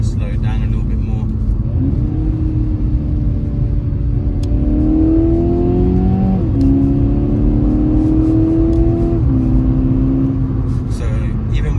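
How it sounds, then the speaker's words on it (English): A 2015 SEAT Ibiza Cupra 1.4 TSI with DSG gearbox revs steadily from inside the cabin, engine pitch stepping upward in several jumps as paddle downshifts are made, constant road rumble underneath, a voice talking occasionally. "If I downshift 3rd, I want to go even lower, slow it down a little bit more."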